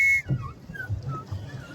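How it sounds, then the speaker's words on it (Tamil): A shrill whistle is blown briefly on a boat on the lake at Kodaikanal, followed by fainter gliding whistle notes over low rumbling background noise. "நான் விசில் அடித்து காட்டுறேன்."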